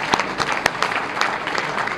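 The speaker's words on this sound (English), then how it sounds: "A big round of applause for Jim and all the great volunteers" A round of applause at an NAACP Freedom Fund dinner, close clapping from a banquet crowd with a few sharp individual claps standing out, continuing steadily for a couple of seconds.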